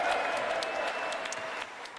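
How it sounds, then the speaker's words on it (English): Sustained applause from the US Congress for President Zelensky's speech in Washington, a dense wash of clapping heard from a distance at moderate level, continuous for two seconds with no talk. "the huge applause that President Zelensky got from Congress as he appeared in person in Washington to speak"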